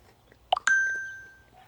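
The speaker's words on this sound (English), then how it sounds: "Goofy ass ringtone." A brief electronic chime, a couple of quick bright notes followed by one sustained tone that fades out, fairly close.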